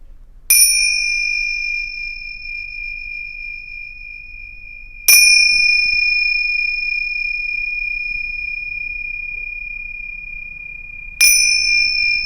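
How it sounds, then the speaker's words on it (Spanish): Three separate strikes of a meditation bell, each a clear, sustained ring that fades slowly, with several seconds of quiet between strikes and no talking. "Vamos a prestarle atención a las campanas"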